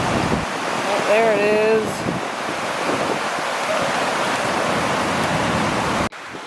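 Wind gusting beside Colorado river rapids at an off-grid camp, a loud continuous roar of blowing air and rushing water, with a short spoken remark near the start.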